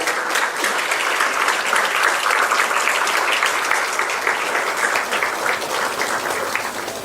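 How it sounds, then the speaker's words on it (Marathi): Loud, dense applause from a large audience welcoming chief guests at a law lecture event with sitting judges, sustained and even throughout with no talk over it. "आपण एकदा जोरात टाळ्या वाजवून आपण त्यांचं स्वागत करूया"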